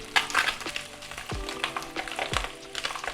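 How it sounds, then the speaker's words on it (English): A fish fillet frying skin side down in a pan, giving a gentle continuous sizzle close by with a few clinks and light knocks of the pan. "So we're going to cook that off 3 to 4 minutes on one side"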